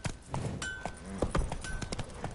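Roach, Geralt's horse in The Witcher 3, gallops with close, rhythmic hoofbeats, a brief whinny and leather creaks over a quiet game soundscape.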